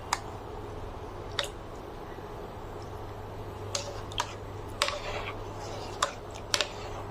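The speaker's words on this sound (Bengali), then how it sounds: "এখন একটু ফুটতে দিতে হবে।" Thick boiled polar rice simmers in a pot for a traditional Iranian sweet dessert, its sticky bubbles popping in scattered, irregular blips over a steady low hum.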